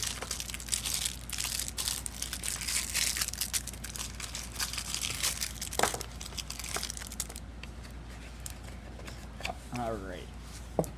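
Cardboard and paper packaging from a Mokuru card game collector's edition box is handled and refolded, giving close, irregular crinkling, crumpling and scraping with sharp bursts. A voice speaks briefly near the end.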